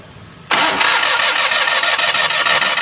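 A Maruti 800 engine, suspected of a broken timing belt, spins freely under the starter without catching: after half a second of quiet, a loud, even, fast whirring crank runs steadily to the end with no firing.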